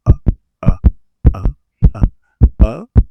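Heartbeat sound effect in a fantasy thriller movie, heard as if through headphones: loud, close, evenly paced double thumps repeating about a dozen times against silence.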